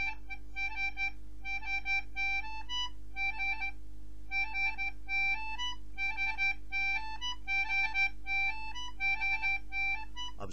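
An English concertina plays a trill on G alternating with A, giving bright reedy repeated notes in quick rhythmic bursts across a phrase, close and clear with no talking.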